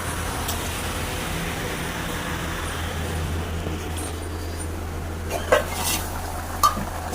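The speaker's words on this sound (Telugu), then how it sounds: "కూర అయితే ఉడుకుతుంది" Curry simmers in a pot with a faint steady bubbling and sizzle, joined late by a couple of sharp utensil clinks against the pot, all fairly quiet and with no talking.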